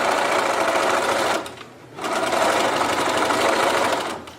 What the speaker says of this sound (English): I am going to sew them together